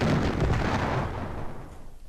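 Naval gunfire in a Jutland warship video game: a single low, rumbling boom that rolls off and fades over about two seconds, moderately loud with no voices.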